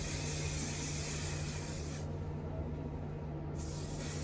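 A spray bottle mists product onto a 613 blonde wig in two long continuous bursts, a close, steady hiss broken by a pause of about a second and a half, over a low constant hum.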